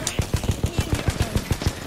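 A rapid automatic weapon fires in Apex Legends, about a dozen evenly spaced shots in a quick steady burst, fairly loud and close.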